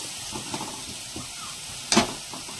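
Spices fry in a pan for a village-style mutton dish, giving a faint, steady sizzling hiss with a few soft knocks and a sharper clatter near the end.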